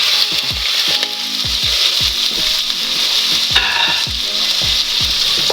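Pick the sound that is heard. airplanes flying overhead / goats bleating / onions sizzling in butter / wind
onions sizzling in butter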